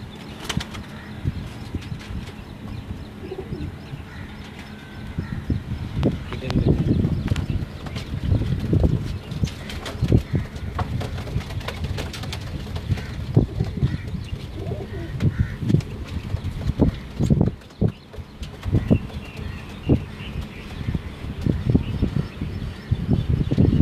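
Migratory pigeons in a home loft cooing steadily with bursts of wing flapping, close and fairly loud, continuous over a low background.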